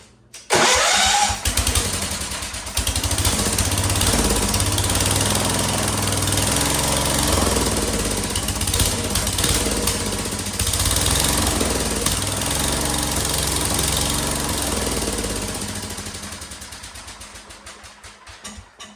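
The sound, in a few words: Wheel Horse C-160 lawn tractor engine starting and running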